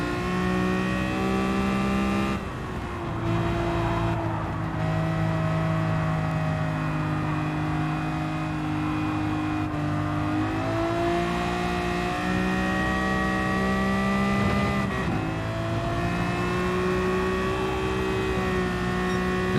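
A high-pitched, many-toned V12 engine of a Mercedes 300 SL race car in Gran Turismo 7 drones continuously with rising and falling revs, smooth and sustained, with a synthetic game-like quality and no speech.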